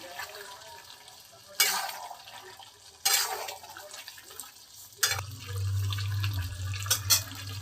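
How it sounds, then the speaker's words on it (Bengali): Water poured into a pot of simmering mutton curry, a steady liquid rush starting partway through and running to the end, between a few sharp clanks of a spoon or lid against the pot. "জল দিতে হবে।"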